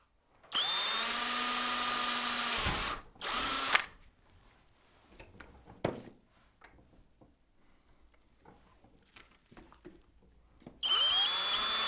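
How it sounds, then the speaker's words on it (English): Power drill boring through PVC pipe from the inside, two loud whining bursts at the start, quiet handling clicks between, and another burst at the end. "we're just going to drill from the inside through"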